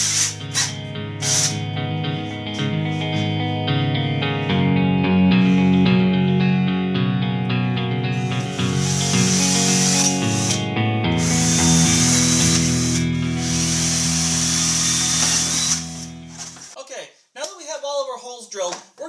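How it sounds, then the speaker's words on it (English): A drill bit bores the corners of a plexiglass sheet with a loud, steady grinding whine for about fifteen seconds, then stops abruptly, followed by brief noise. "I'm going to go ahead with a drill bit and drill the corners on each of these spots where I'm going to be cutting"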